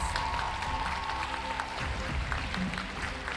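Audience applause for five top contestants standing at a head-to-head challenge ceremony, a steady wash of clapping that holds evenly from start to finish at moderate distance.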